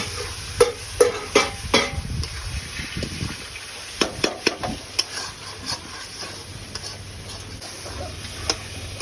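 Turmeric and tomato are stirred in a cooking pan for an egg rezala, with a run of scraping, clattering utensil strokes over a faint sizzle, busiest near the start and middle, with no talk.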